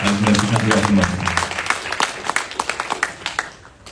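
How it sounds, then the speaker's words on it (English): A crowd at a student town hall claps in a short round of applause, dense at first and then thinning into scattered individual claps before fading out. "can we have a little round of applause for Councilmember Kate Stewart?"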